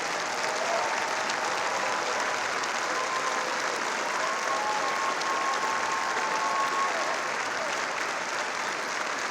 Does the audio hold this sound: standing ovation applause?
yes